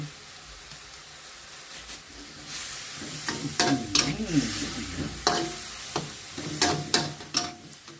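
Marinated pork stir-fried with bell peppers in a pan, a soft sizzle under intermittent scraping and stirring strokes that come in clusters, close and clear.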